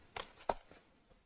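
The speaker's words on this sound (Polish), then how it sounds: "bierzemy nożyczki albo nożyk i będziemy nacinać raz, dwa, trzy i cztery" Scissors cut paper for a Halloween treat box in a few quick, faint snips spread over about a second, with no talking.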